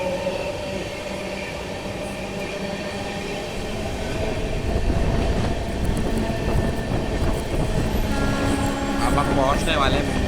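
Steady rumble and rattle of a moving Vikramshila SF Express train on Indian rails, building louder partway through, a continuous near ride noise with faint background voices.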